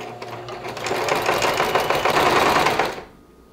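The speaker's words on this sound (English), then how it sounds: "When I get to the next seam, I'm gonna line up the other side of the presser foot and stitch on that side." A sewing machine stitches quilting lines alongside a seam, a close, steady rapid whir of needle strokes lasting about three seconds before stopping abruptly.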